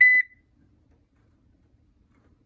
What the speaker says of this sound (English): You can adjust the volume of the notification beeps